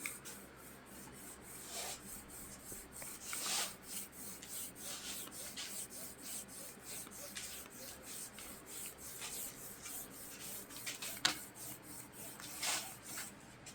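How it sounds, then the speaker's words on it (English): A piston ring groove on a small block Chevy piston is scraped back and forth with a broken ring, a faint, rhythmic rasping rub repeating steadily with small sharp scrapes. "Saw it back and forth in the back of the ring."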